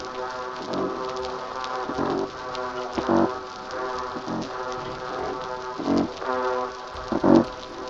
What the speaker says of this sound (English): the black-spotted croaker's low foghorn call, the pteropontid's grunting, and the ba-ba-ba of the blackfish